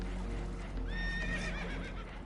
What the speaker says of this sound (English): Horses are spooked, and we're taking on water.